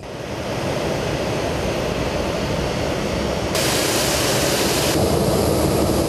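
A jet airliner of the Turkish low-cost carrier AJet lands at Tuzla International Airport, a loud steady roar of engines and rushing air filling the whole stretch, swelling brighter partway through, with no talk.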